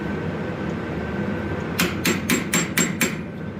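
Six sharp hammer blows ring out on an anvil in quick, even succession while forging a steel turkey's head, following a quieter stretch of low background noise.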